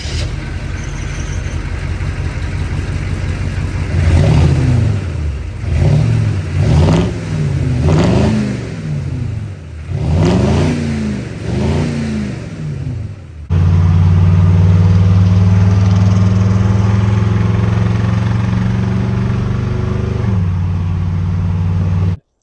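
A 1985 Chevy M1008 CUCV truck's 6.2 diesel engine runs close by, blipped through a rhythmic series of about six revs, then held at a steady, loud, raised idle until it cuts off.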